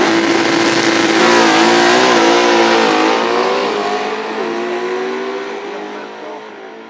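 A 1988 Ford Mustang drag car launches hard down the strip at a drag racing event, its loud engine roaring and shifting up through climbing revs before fading gradually as it pulls away.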